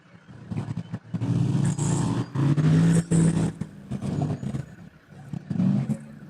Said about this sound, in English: Just heard that we've got a car coming into the finish.